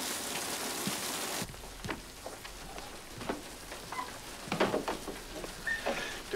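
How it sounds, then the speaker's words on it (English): Rain falls at night in a film scene, a broad hiss that is loud at first and then drops to a softer patter mixed with scattered knocks and movement. "I'm sorry I didn't hear you in all this rain."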